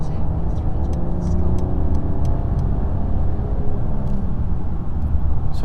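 A 2022 Mercedes CLS 450 AMG coupe on the road, heard from inside the cabin: a steady, moderately loud engine and road rumble with a voice talking over it.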